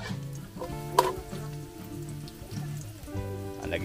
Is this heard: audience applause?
no